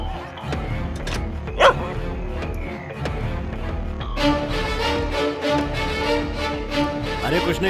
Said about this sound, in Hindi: बगल वाला कुत्ता भौंक रहा है।